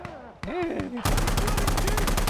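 A shooting video game played at night: a voice talks briefly, then a rapid, steady burst of automatic gunfire takes over, loud and close with evenly spaced shots.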